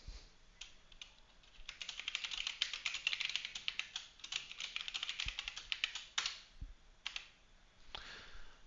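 Rapid typing on a computer keyboard during an online gaming match, a dense run of close, crisp key clicks in bursts with brief pauses, fairly quiet overall.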